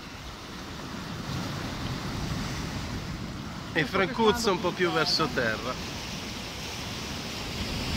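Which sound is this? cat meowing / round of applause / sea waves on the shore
sea waves on the shore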